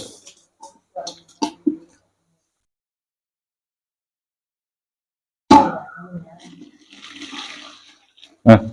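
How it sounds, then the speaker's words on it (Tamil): Hot water pours and splashes steadily onto red rice flour for a few seconds after a quiet pause, preceded by a few brief knocks and clatters. "சுடுதண்ணி காஞ்சி வச்சு இதுக்கு மேலே ஊற்றி இதை கிளற வேண்டியதுதான் வேலை"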